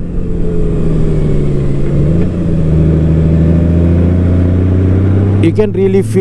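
Honda Goldwing 2023 DCT touring motorcycle with its engine humming steadily while riding, the pitch dropping as the automatic transmission shifts gear. A brief burst of voice comes near the end.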